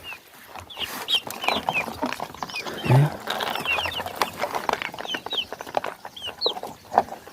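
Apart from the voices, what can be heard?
birds clucking while eating grains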